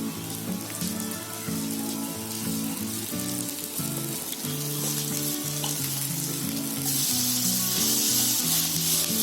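Vegetable breakfast batter sizzling in oil in a pan, a steady close crackle and hiss that grows slightly louder toward the end, with no voices.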